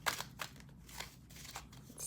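Tarot cards being shuffled by hand, heard as quiet, quick papery riffles and soft slaps in short repeated bursts, close by with no voices.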